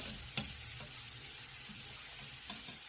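Soft, steady sizzling of meat-filled dumplings in a hot pan, low and continuous, with a couple of faint clinks near the start and end.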